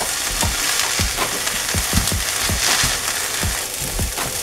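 Onions and celery fry in a pan, giving a steady close sizzle with a run of quick stirring scrapes at an even rhythm.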